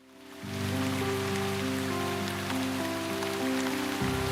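Steady, even rain falls on surfaces in the Shroud of the Avatar game world, a dense hiss under a constant low droning tone with no talk.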